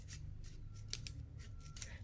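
Scissors snipping paper into a feather shape for a parrot craft, a run of quick, close, quiet cuts at a steady rhythm.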